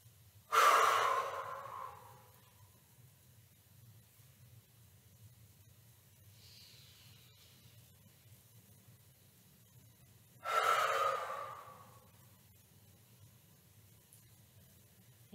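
Two slow, deep breaths during a yoga breathing exercise, each a loud close rush of air spaced about ten seconds apart, with a faint softer breath between and quiet room hum underneath.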